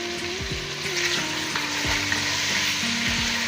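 A spiced mixture with turmeric and salt sizzles steadily in a pan, with repeated scraping stirs of a spoon against the metal running through the frying. It sounds close and continuous, with no talking.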